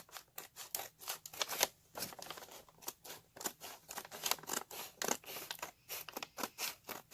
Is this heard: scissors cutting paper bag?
yes